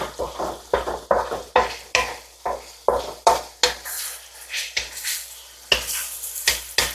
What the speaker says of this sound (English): I find the best way to brown ground beef is just to continuously keep moving it